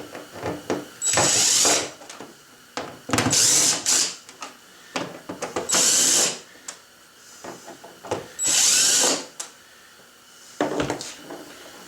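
A power drill whirs in several short bursts, backing out the four screws of a Hobie kayak's rudder cover, with small clicks and handling clatter between runs; nobody speaks.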